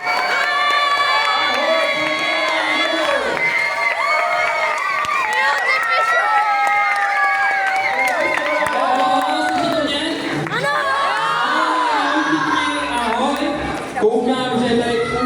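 A packed crowd cheers and shouts nonstop, with whoops and children's voices rising over a dense, loud wall of chatter.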